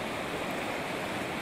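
The raging Coquihalla River rushes past close at hand, a dense continuous roar of turbulent water with no breaks and no voices.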